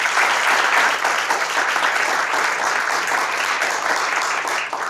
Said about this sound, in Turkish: Alkışlarınızla kendilerine biraz cesaret verelim.